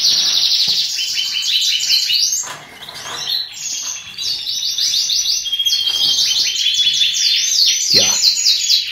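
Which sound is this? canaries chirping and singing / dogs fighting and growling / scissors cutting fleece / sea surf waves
canaries chirping and singing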